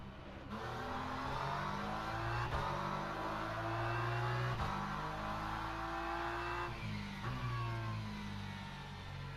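Simulated GT3 race car engine in Le Mans Ultimate during a multiclass endurance race at Qatar, droning steadily with rising and falling revs and gear shifts, loud and continuous without talk.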